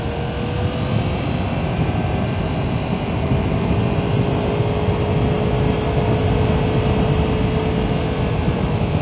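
A Yamaha MT-10 SP motorcycle with a Leo Vince Corsa exhaust is ridden on a damp road, giving a steady, loud engine drone that holds an even pitch for about nine seconds.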